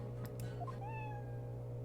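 A cat meows in the video game Professor Layton vs Phoenix Wright, a few rising and falling meows heard close over a steady low background hum from the game.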